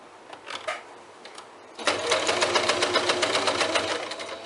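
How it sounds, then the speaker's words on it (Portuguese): A sewing machine stitches over existing topstitching on a bag strap, its needle hammering in a fast, even mechanical rhythm close up. A few slower start-up stitches come before the steady run. "Eu tô costurando em cima daquela costura que eu fiz na alça, daquele pesponto."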